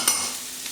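Garlic hits a hot pan and sizzles, a brief bright crackle at the start that quickly settles into a soft, steady frying hiss.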